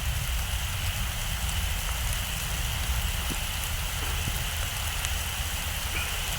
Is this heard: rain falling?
yes